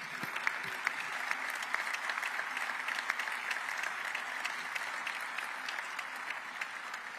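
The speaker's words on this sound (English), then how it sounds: "Let's give Kevin and Phil a big round of applause" A crowd applauds at the Orlando International Airport Terminal C dedication, steady clapping at moderate distance lasting about seven seconds, fairly soft overall with a few sharper claps standing out.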